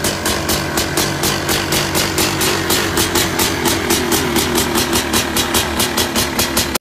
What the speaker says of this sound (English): It's actually a 700 cubic centimeter engine